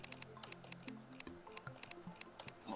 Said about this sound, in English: I'm recording right now, but don't give the reaction yet because I'm typing something out